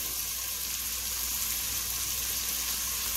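Onion and pepper fry in a pan for a sauce, giving a steady, dense sizzle that fills the whole moment, close and fairly loud with no talking.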